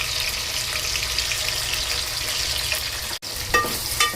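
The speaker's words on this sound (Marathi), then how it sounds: "थोडं मिरची आणि लसूण परतून घेते" Crushed chili and garlic frying in a pan: a dense, steady close sizzle that cuts out for an instant near the end, then returns with a few sharp spatula clicks.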